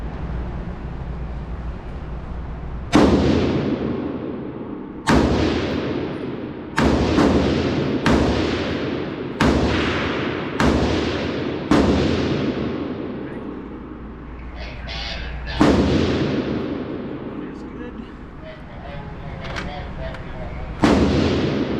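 An FN PS90 5.7 mm rifle fires at an outdoor range in about ten loud, sharp single shots spaced a second or two apart, each trailing off with an echo. Faint voices come through between the shots.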